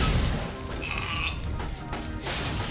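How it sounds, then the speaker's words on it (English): A sheep bleats briefly in the Spyro the Dragon video game for PS4, a short nasal cry heard over busy game music and noise. "Is that a chicken? It's a sheep."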